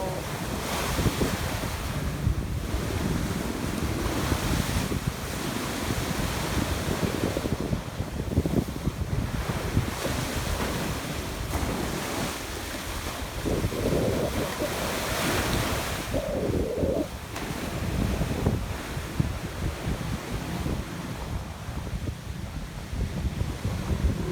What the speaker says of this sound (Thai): เก็บบรรยากาศให้ดูนะบางแสน ทะเลบางแสนของเรา